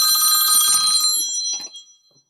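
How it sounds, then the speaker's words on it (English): A mobile phone rings during a license and inspection board hearing, a bright repeating electronic ringtone that plays loudly for about a second and a half, then cuts off, leaving near silence. "whose phone is that? Please turn it off."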